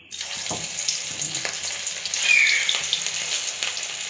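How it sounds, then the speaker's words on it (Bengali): Fritters (bora) frying in hot oil in a pan, a steady close sizzle with crackling and spitting that swells a little midway, no voices. "তেলটা আমার গরম হয়ে গেছে, এবার আমি একটা একটা করে বড়াগুলো দিয়ে দেবো"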